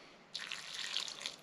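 A short splash of water is poured into halushky dumpling dough, a brief, soft, close trickle after a quiet start.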